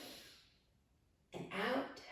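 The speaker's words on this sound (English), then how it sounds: "Take a nice breath here. Breathing in" A single deep inhalation during a beginner standing yoga pose, a soft airy intake that swells after a quiet pause and holds near and steady to the end.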